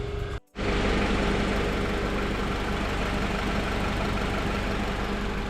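A car engine idles steadily and loudly nearby, a constant low rumble after a brief cutout at the start.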